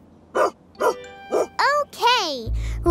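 A cartoon dog barks three times in short, evenly spaced yips, then gives a couple of rising, whiny yelps, loud and close, ending with a brief low thump.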